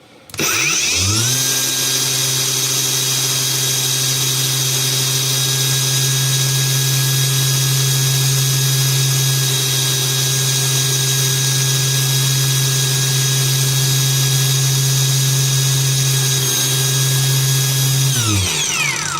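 A PATUOPRO angle grinder spins up and runs at a steady high-pitched whine for a long stretch, loud and close, then winds down at the end.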